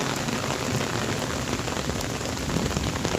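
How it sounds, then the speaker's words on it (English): Steady rain pours straight down on a trail lined with vegetation during a thunderstorm, a dense continuous patter close by with no thunder or voices. "now the rain just appears to be coming straight down"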